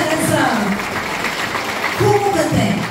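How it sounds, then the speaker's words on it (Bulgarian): Applause for the groom during an outdoor wedding ceremony, a steady wash of clapping with voices calling out over it, swelling again briefly near the end. "Аплодисменти за младоженеца!"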